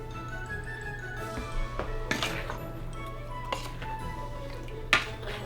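Fig jam mixture of sugar, dry sherry, lemon juice, peelings and salt being stirred in a pot, with scattered clinks and scrapes of a utensil against the pot over a steady low hum.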